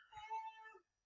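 A domestic cat gives a single clear, drawn-out meow lasting under a second, heard alone and fairly close.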